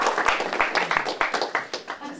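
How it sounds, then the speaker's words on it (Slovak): Audience applause in a presentation-skills workshop room, a steady patter of clapping hands lasting the whole stretch, moderately loud and fairly close. "potlesk, to je odvaha."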